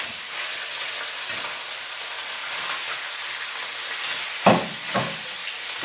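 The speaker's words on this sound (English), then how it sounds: "And now we introduce our beef to the pan." Beef hitting a pan of smoking-hot, nearly burning oil for stroganoff, giving a loud, steady, broadband sizzle that holds throughout, with a couple of sharper clatters near the end.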